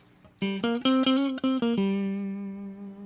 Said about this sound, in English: what you're hearing right now is the guitar going down a step